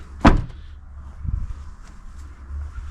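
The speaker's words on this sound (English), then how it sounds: "Door opens up underneath." A hinged door underneath a Kings tub rack on a GWM Cannon ute swings open outdoors, giving one sharp close click followed by a softer thud, then a quiet low background hum.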